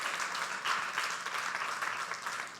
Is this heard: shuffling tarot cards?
no